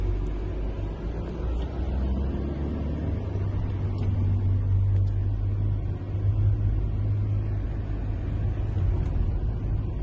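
Long line of cars queued in traffic leaving Enerhodar, a steady low engine rumble with idling and slow-moving vehicles, continuous and fairly loud without any talk.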